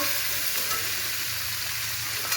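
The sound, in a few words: vegetables (pointed gourd, drumstick, potato) frying in oil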